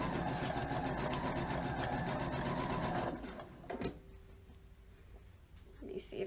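A sewing machine runs steadily while stitching a memory pillow, a dense continuous mechanical whir for about three seconds, then stops, leaving quiet room sound with a few small clicks and handling noises.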